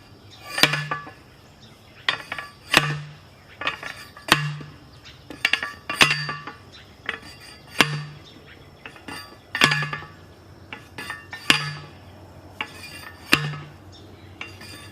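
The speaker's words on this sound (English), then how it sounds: "move the chopping spade over just a little bit." A chopping spade digging out a pawpaw root sucker strikes again and again, sharp close thuds with a metallic clink roughly every two seconds, steady and unhurried, with no one talking.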